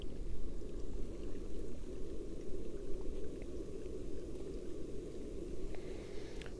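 A Jetboil Summit Skillet stove hisses and bubbles steadily outdoors as water boils for brewing, producing a soft, continuous low rumble that stays fairly quiet and even throughout, with no talk over it.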